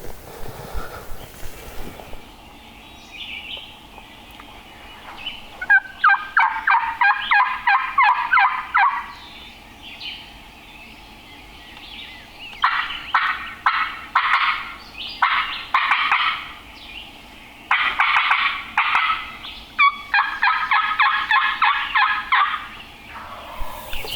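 Wild turkeys gobble from a ridge during a public-land hunt, giving several loud, rattling bursts in separate bouts, with pauses between them, at moderate distance outdoors.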